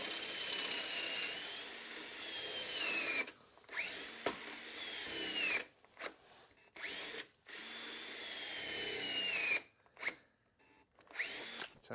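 Cordless drill boring holes in wood for a garden sifter, steady whining bursts that rise and fall in pitch as the bit bites and slows, with pauses and clunks of handling between holes.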